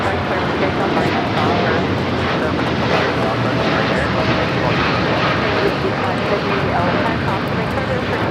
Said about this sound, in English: This is United Airlines 1704 taking off to Newark on the 787-9 Dreamliner